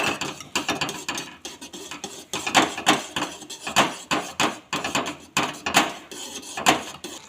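A spoon stirs flour into water in a pot for ambil, a Latur-style recipe, in steady rhythmic scraping and knocking strokes against the pot, close and fairly loud with no talking.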